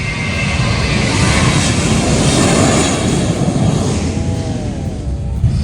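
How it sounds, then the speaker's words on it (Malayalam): A jet airliner bound for London takes off from the Gibraltar airport runway, a loud, sustained engine roar that swells to a peak and then eases slightly toward the end. "ലണ്ടനിലേക്ക് പോകുന്നൊരു വിമാനം ഇപ്പോൾ ഇവിടുന്ന് ടേക്ക് ഓഫ് ചെയ്യും."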